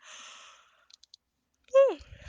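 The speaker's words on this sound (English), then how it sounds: "You got a big yawn there." A person gives a short, voiced yawn that slides downward in pitch. It comes after a faint breathy sound and a few soft clicks, with nothing else in the background.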